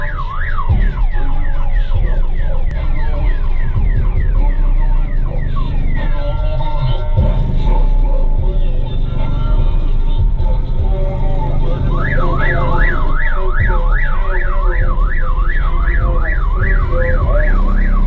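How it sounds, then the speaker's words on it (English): A car alarm is set off by loud booming 12-inch subwoofers and cycles through warbling and rapid whooping tones, competing with heavy continuous bass music throughout. "You just set the alarm off."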